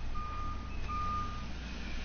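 Reversing beeps from a truck in the park-building game Jurassic World Evolution, a steady repeating electronic tone held over a low rumbling background.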